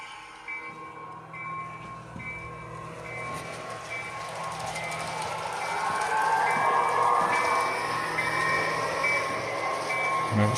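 Railroad locomotive #4019 hauling a train, a low rumble of rolling wagons and rail clatter with a steady tonal whine, growing louder toward the end, heard from a distance without talk.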